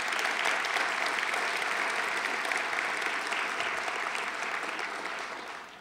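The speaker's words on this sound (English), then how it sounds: "Let's give them a round of applause." Round of applause from the audience at a lecture series breakfast, an even wash of many hands clapping at moderate distance that holds steady then tapers toward the end.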